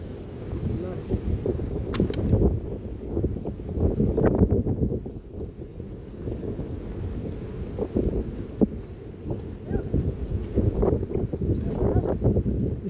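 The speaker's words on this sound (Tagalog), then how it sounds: "Lakas ng hangin." Strong typhoon wind buffets the microphone in heavy, fluctuating gusts while fishing outdoors, with faint voices in the background.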